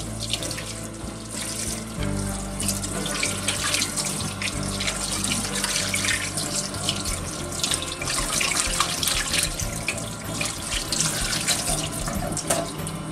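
A running water tap splashes into a sink as hands are rinsed, a steady continuous flow with splashing close up and no talking.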